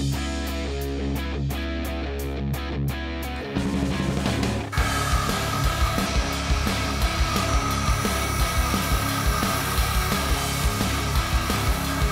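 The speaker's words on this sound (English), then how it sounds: "I'll run over to the grinder and grind down these two lines" A belt grinder shaping a knife handle in a workshop: a few seconds of quieter bench clatter, then a loud, steady abrasive whine with a humming drone that runs continuously to the end.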